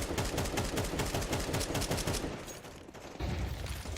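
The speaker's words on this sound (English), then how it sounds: "That's a nice way of shooting though also" Rapid rifle bursts crack out on the dust2 map in Counter-Strike, dense repeated shots for about two seconds, a brief near-silent gap, then more firing resumes, loud and close with no talk over it.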